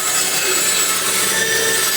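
Continuous loud sawing through small wooden blocks cut to 1 inch thick, a steady dense rasping roar close by with no pauses or voices.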